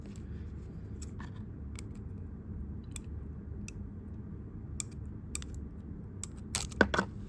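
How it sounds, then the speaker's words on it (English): A pair of scissors dropped during a Beyblade toy unboxing: a few light, close clicks, then a sharp metallic clatter as they land near the end. "So, as I drop my scissors."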